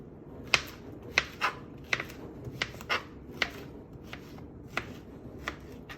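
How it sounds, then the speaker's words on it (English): A knife cuts zucchini into small chunks on a cutting board for a sweet corn salad, making about a dozen sharp, irregularly spaced taps against a soft low background, close and without speech. "So you got little chunks of zucchini like so."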